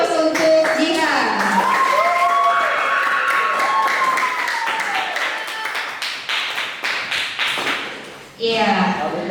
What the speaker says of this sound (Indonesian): Berikan aplaus untuk Jihan.